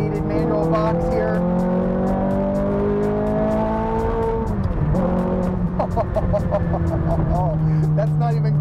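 A Ferrari 430 Scuderia with a 4.3-liter V8 and gated manual gearbox revs hard and loud up close: pitch climbs, drops sharply with a mid-way shift, then climbs again in a continuous howling drone.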